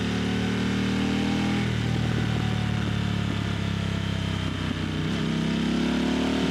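A 2022 Harley Davidson Pan America motorcycle under way on a ride, its engine droning steadily and loudly throughout with a continuous rumble, rising slightly as it pulls through short bends, with wind noise and no talk.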